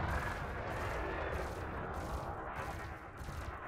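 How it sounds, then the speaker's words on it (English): Spaceship multi-cannon fire in Elite, a dense, steady burst of rapid gunfire that holds at a fairly even level for several seconds without a voice over it. "Start shooting, and we'll bring the multi-cannon online as well."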